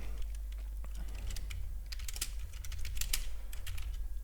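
Rapid clicks from a computer keyboard come in uneven bursts of keystrokes over a low, steady hum. The typing is fairly faint and there is no talking.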